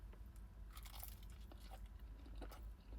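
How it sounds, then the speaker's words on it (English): Close, quiet crunching bites into a quesadilla dipped in Chipotle adobo ranch sauce, several crisp bites followed by chewing. "we're gonna dip our quesadilla in the adobo ranch and try"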